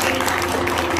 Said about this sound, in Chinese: 我们掌声鼓励一下。